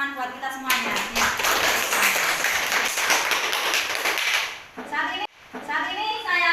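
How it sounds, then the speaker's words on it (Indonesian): A classroom of chemistry students breaks into sustained applause for their class, dense clapping that swells and runs for several seconds, with children's voices chattering through and over it before it fades out. "Kasih tepuk tangan buat kita semuanya."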